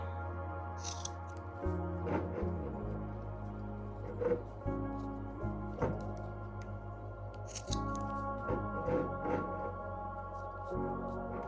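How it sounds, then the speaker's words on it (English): Scissors cutting macrame cords to length: a series of crisp snips and short shearing strokes, close and fairly quiet, repeating irregularly every second or two with no talking. "And just cut these to the length of the jar."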